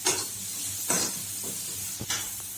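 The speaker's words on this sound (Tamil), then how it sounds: "கொஞ்சம் அது வதங்குறதுக்கு, வெங்காயம் வதங்குறதுக்கு" Small chopped onions frying in a pan, giving a continuous close sizzle punctuated by three or four sharper stirring scrapes.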